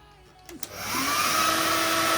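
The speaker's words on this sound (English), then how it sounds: "so a bit noisy with the hairdryer" A couple of faint clicks, then a hair dryer whirs up and blows with a steady, loud rushing hiss close by, heating the back of a Mini Cooper R57 JCW for stick-on parts.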